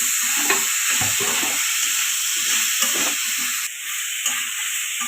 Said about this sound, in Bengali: গাজর আর ফুলকপি একটু হার্ড, ওটা আগে ভেজে নেব